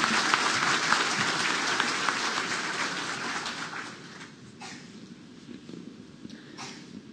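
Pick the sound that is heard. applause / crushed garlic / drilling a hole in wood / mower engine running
applause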